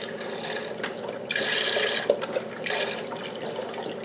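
Beef broth from two 32-ounce cartons poured into a pot of tomato soup, a close, steady liquid splashing and gurgling that swells midway and then trickles on.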